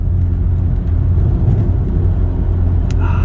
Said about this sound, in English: You can just listen to the sounds this car makes.